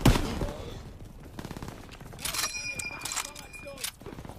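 Gunfire in the video game Call of Duty WW2, a loud sharp shot at the start and then scattered bursts and ringing clatter, with a voice talking partway through.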